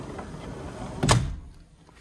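A pair of French doors in a Disney's Grand Floridian hotel room swings shut with one solid, close thud after a soft sliding rustle, then quiet.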